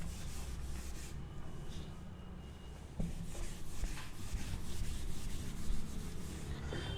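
Rubbing and scrubbing on a board as handwriting is wiped away, a steady close brushing texture with a slightly louder stretch partway through, no talking.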